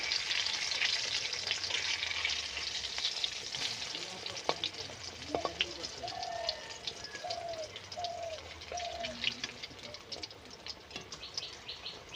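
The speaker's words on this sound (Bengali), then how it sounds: "দেখতে পাচ্ছ কত সুন্দর লাল লাল করে ভাজা হচ্ছে" Banana flower fritters fry in a small amount of oil, crackling and sizzling up close with sharp pops, while a few faint bird chirps sound in the background.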